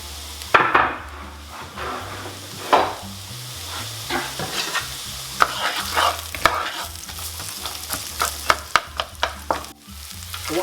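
Onions frying in a pan for a minced beef and onion pie, with a low sizzle beneath repeated sharp scrapes and taps of a spoon stirring against the pan, close up and with no talk.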